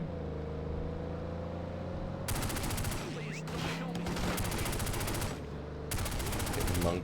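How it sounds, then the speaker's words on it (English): Gunfire in The Godfather: The Game, the video game, sounds as three loud, rapid automatic bursts over a low engine hum, with short pauses between them. "Monk just shooting random people on the sidewalk?"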